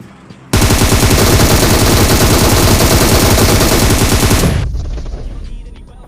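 Sustained rapid automatic gunfire in a mobile battle royale shooter, loud and continuous for about four seconds after a brief quiet start, then cutting off into a fading tail.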